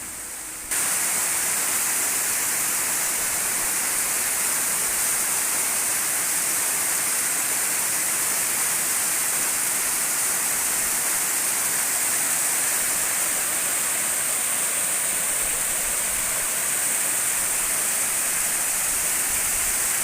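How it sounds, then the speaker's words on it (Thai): A small waterfall in lush, cool forest at Chaisomboun, Laos pours in a steady, dense rush of water that stays loud and unbroken throughout, with no voices. "เนี่ยน้ำตกน้อยๆนี่"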